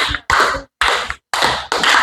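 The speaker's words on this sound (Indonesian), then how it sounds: "kita berikan tepuk tangan untuk kelompok 1" Classroom audience applauding a student group, heard as three short loud bursts of clapping separated by brief silences, close and crisp.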